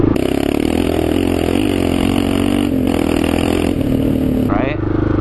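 A Kawasaki KLR650 cruises along with a loud, steady single-cylinder drone and wind, and a high whine runs over it before the note drops and rises near the end.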